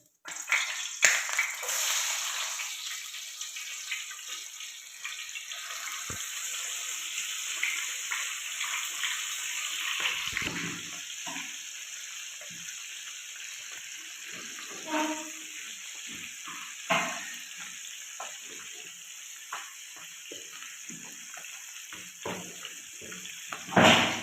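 Koi fish sizzling in hot oil in a pan, a steady dense crackle and hiss with occasional louder pops, close and continuous without talk.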